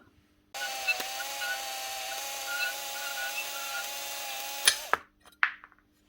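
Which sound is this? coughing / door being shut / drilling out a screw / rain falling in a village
drilling out a screw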